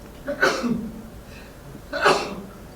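Two sharp sneezes, the second about a second and a half after the first, fairly close and loud, with faint breathing between.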